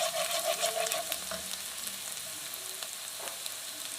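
Chopped green chillies fry with softened onion and garlic in a pan for a vegetable manchurian, giving a soft, steady sizzle broken by occasional scrapes and taps of stirring.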